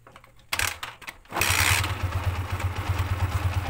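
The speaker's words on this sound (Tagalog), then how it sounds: "so ngayon start na natin yung motor natin" A stock motorcycle engine cranks in short bursts, then catches and settles into a steady, loud idle close by.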